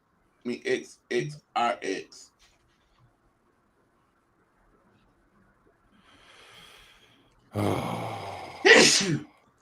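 Several short spoken words, a long quiet stretch with a soft breath, then a sharp, loud sneeze close to the microphone.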